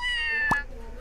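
A kitten in the video game Scribblenauts gives a single short meow over a steady background of game music.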